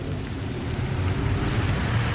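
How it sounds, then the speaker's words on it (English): Heavy rain pours outside a house on a corner lot, a dense, loud, continuous hiss of drops hitting surfaces, steady with no pauses. "It's pouring rain out"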